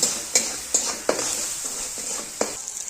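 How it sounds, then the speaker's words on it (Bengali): Onion, garlic and dried red chilli fry in a pan, a continuous sizzle broken by a few sharp scraping stirs of a spatula spaced through it, close and with no talk. "আগে এই পেঁয়াজ রসুন আর শুকনো লঙ্কাটা ভালো মতো একটু ভেজে নেব"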